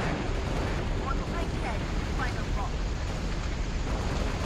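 Explosions in the Halo Reach video game form a dense, constant roaring rumble throughout, loud and unbroken, with voices faintly mixed in.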